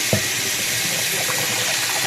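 Running water rinses pink residue off something, a loud, steady, hissing flow that holds evenly from start to finish.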